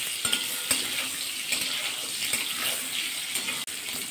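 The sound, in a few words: potatoes being stirred and fried in oil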